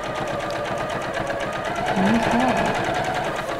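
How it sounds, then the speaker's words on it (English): A sewing machine stitches a child's garden apron with a fast, steady mechanical chatter up close. A brief spoken word comes partway through. "I'm taking it back to the machine and I'm gonna begin sewing"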